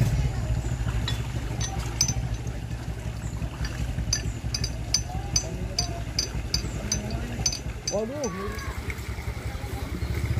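A hand tractor engine for a rice paddy runs steadily throughout, close and loud, its low chugging idle laid under someone talking, with a brief bright clatter near the end.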